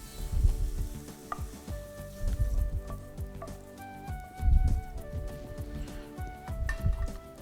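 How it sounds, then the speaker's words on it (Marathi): Mushrooms sizzle in hot ghee in a pan, with repeated stirring and scraping and soft music playing in the background. "ह्याला साजूक तुपामध्ये परतवून घ्यायचं आहे"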